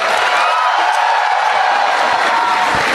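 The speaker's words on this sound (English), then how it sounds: "please give them a huge round of applause" Audience at a university orientation program for new first-year undergraduates applauding a performing team, a dense, steady wash of clapping with some cheering and whoops, loud and continuous throughout.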